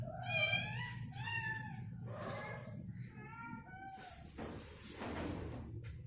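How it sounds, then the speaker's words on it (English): Several cats meow repeatedly in a shelter colony room, with clear tonal cries coming in bursts over a steady low background hum, fairly close and moderately loud. "Yeah, so there we have some kitties lounging."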